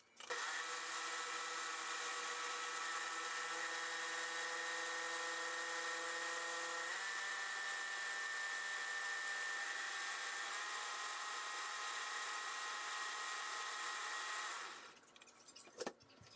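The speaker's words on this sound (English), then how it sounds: "And he's vacuuming the couch." A vacuum cleaner runs steadily on a couch, a continuous whining motor drone with a slight pitch shift partway through before it switches off near the end, fairly faint and with no voices.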